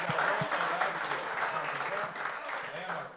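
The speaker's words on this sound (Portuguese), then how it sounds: "Uma salva de palmas." Church congregation applauding together, a steady wash of clapping that fades slightly toward the end, with some voices mixed in.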